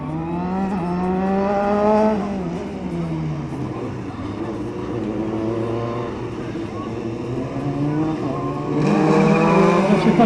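A race car at the Carcassonne slalom accelerates hard, its engine climbing and falling through several gear changes and sustained revs at close range, while a commentator talks over it.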